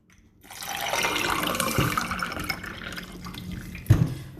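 Water pours from a tap or into a glass for a drink, a steady splashing rush that builds and fades, ending with a couple of clinks, and no voices.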